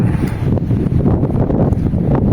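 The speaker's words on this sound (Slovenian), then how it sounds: "samo ta veter je prezopen" Strong wind buffets the microphone on a mountain hiking trail, a loud, continuous low roar and rumble that gusts unevenly throughout with no clear talk.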